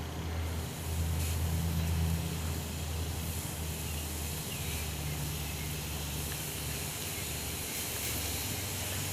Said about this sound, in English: So let's start by putting the burgers on the grill.